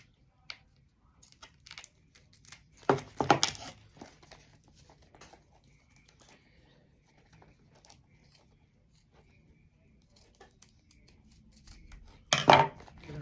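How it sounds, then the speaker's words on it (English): Scissors snip through material in two short, close bursts several seconds apart, with quiet handling and faint rustling between them. "going to snip some of this off"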